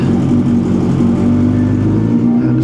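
A 1000cc superbike motorcycle engine, just started cold, runs loud and close with a steady, throaty drone that swells slightly in revs and dips near the end.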